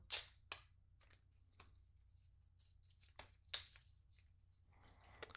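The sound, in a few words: plastic wrap peeled off new case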